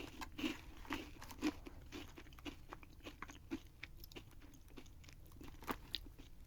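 Someone chews a crunchy, creamy purple yam snack up close, with repeated crisp bites and crunches over quiet, soft mouth sounds and no talk.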